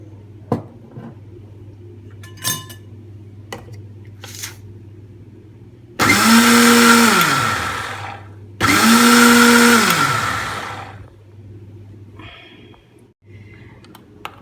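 Blender beating oil and salt into homemade mayonnaise, running in two loud bursts of a few seconds each with a pitch that sags as the mixture thickens, set between quieter kitchen handling noises.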